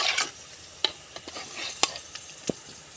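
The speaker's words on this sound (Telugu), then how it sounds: "ఇప్పుడైతే మేము ఈ చేప ముక్కలు అయితే అందరూ వేసుకుంటున్నాము." Fish pieces frying in a pan give a low, steady sizzle, broken by a few sharp clicks and scrapes of a utensil at irregular intervals, quiet and close, with no voices.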